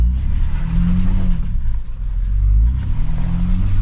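A 2023 Ford Bronco Raptor in rock crawl mode works its engine off-road, a loud, steady low rumble that surges and swells as it climbs, heard up close with no talking.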